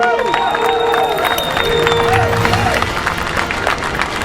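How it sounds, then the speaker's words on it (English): Crowd below the Freedom Tower topping-out ceremony in New York cheering and clapping, a sustained mix of shouts and applause with a news reporter talking over it. "Some down there chanting USA. They're clapping."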